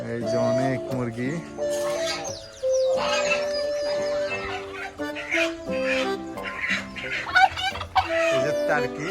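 A flock of chickens on a Brazilian farm clucks and squawks close by, with overlapping calls and a few sharper cries, amid other poultry such as geese and turkeys.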